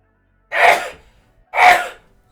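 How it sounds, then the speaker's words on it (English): Two sharp sneezes about a second apart, close and fairly loud, each a burst of breathy noise that quickly fades, with quiet in between. "I gotta sneeze."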